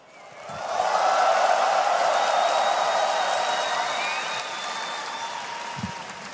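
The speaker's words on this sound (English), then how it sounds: "I had to wait for the applause to stop there, Save." Audience applause at an esports tournament, The International playoff lower bracket, swelling to a loud sustained wash of clapping and crowd noise that slowly tapers off.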